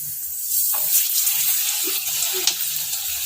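Okra frying in hot oil in a home kitchen pan, a steady soft sizzle and hiss running throughout with a few small stirring clinks, heard close and alone.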